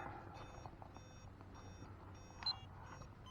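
A faint electronic buzzer on a Losi 5ive-B RC car beeps in short repeated pulses over a low engine rumble.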